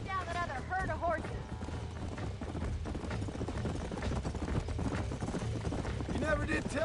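Hooves clip-clop in a quick, steady rhythm throughout in the video game Red Dead Redemption, with a horse's brief whinny near the start and again at the end.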